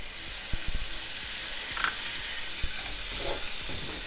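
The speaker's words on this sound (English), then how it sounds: "Our banana peppers are just starting to soften, so we're going to go in with 1 diced tomato." Diced tomato sizzling in a pan with softening sautéed banana peppers: a steady, soft frying hiss with a few faint clinks and stirring bumps, no voices.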